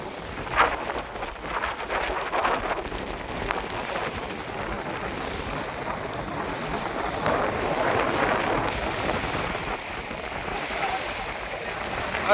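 Steady heavy rain pours during river fishing in a downpour, a constant dense hiss that holds throughout with some wind buffeting, and a few brief splashy bumps.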